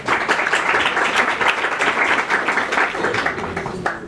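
Audience applause after a workshop talk at a French business school, steady clapping from a room full of people lasting several seconds before tapering slightly.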